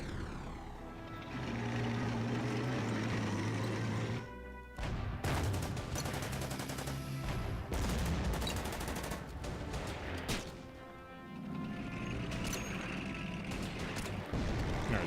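Strafing fighter planes fire guns in an Order of Battle: World War II battle at Khalkin Gol, dense bursts of loud gunfire mixed with droning aircraft engines, broken by brief pauses.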